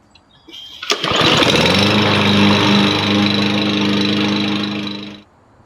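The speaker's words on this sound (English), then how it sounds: "I mulch them with my lawnmower." A lawn mower starts with a pull and a sharp catch, then roars at a steady loud drone while mulching fallen leaves, holding close and even for several seconds before cutting off.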